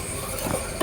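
A spoon stirs homemade baby cereal porridge in a pot as it boils, a brief close scraping and bubbling sound under a soft sizzle.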